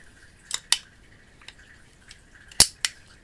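A Crosman air pistol fires a pellet with a sharp, close crack, followed by a few lighter clicks and snaps of handling in an otherwise quiet space.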